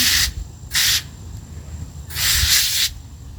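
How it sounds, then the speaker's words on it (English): Three short bursts of hissing light water mist spray, the last one longest, over a low background rumble with no voices. "let's start with our just light mist spray now."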